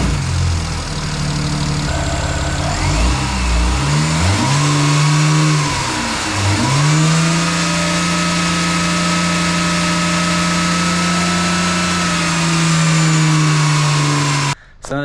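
A BMW N54 engine cranks and catches, its pitch climbing and dipping through a couple of revs before settling into a loud, steady run with belt whine on top.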